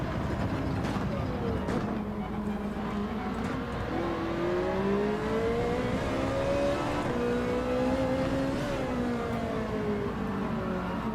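A Ferrari 458 race car in Gran Turismo 7 drones and climbs through revs, engine pitch sweeping up and down continuously, with a voice talking over it.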